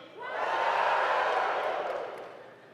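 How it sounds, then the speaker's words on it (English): Graduation audience letting out one huge collective wahoo yell, a big crowd roar that rises, holds for about two seconds and fades away. "one huge wahoo,"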